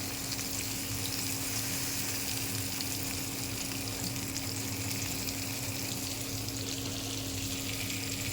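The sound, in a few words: coral fish frying in a pan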